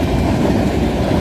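A VIA Rail passenger train passes at Cobourg station at night, a loud, close, continuous rumble of wheels on rails with steady clattering and no voices.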